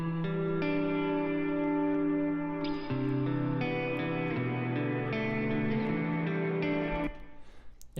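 Sustained guitar chords ring out through a large-size reverb, each change blooming into a long washy tail that stays loud before cutting off near the end.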